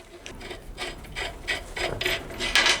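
A screw is tightened on an old hundred-year-old lever jack, a rhythmic series of ratcheting, rasping metal strokes, about seven in steady succession, close and moderately loud.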